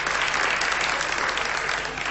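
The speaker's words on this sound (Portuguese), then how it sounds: "palmas. Ah. Obrigado." Audience applause at the Natal dos Hospitais Christmas charity broadcast: a dense, steady wash of many hands clapping for about two seconds, fading slightly at the end, with no voices on top.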